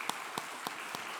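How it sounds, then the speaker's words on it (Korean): Applause in a church during a Sunday morning service: four distinct, evenly spaced claps over faint background hiss, sounding sparse and distant rather than a full round. "우리 인사하실 때 큰 박수로 여러분 수고하셨다고 격려해 주시기 바랍니다"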